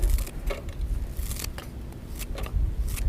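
Old unwashed scissors handled at a camp during a catch-and-cook fishing trip, giving a few quick metallic snips and clicks close by over steady outdoor background noise, with no speech.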